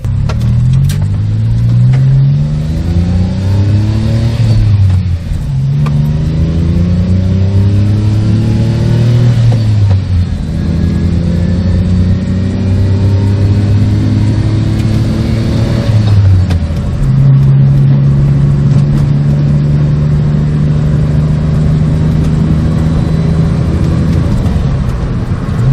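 A car fitted with welded twin side exhaust mufflers drives with the exhaust valve closed. It gives a close, steady engine drone, and the pitch climbs through several gear changes over about half a minute.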